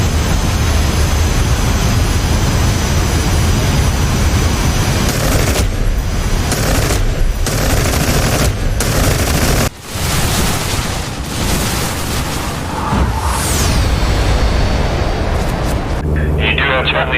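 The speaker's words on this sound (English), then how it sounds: "Watch for the tracer fire" Machine gun tracer fire over a Vietnam battlefield at Ia Drang in DCS World, a loud continuous rattle of gunfire mixed with jet aircraft roar, with radio voices talking over it and a brief dropout midway.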